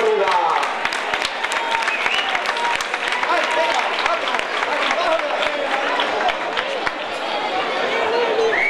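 A crowd at a town road race gives loud, sustained applause as trophy winners hold up their trophies, sharp claps rising over background chatter from the gathered spectators.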